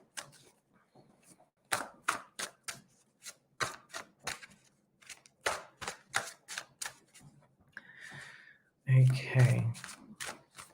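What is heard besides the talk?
shuffling tarot cards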